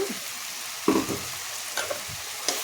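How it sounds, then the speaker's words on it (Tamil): Turkey berries are tipped into a pan of sautéed ingredients for chutney, making a soft sizzle with a few scrapes and knocks of a spoon, close and fairly quiet. "இந்த அளவுக்கு வதங்கினோடனே நம்ம இந்த சுண்டக்காய் இதில் போட்டு"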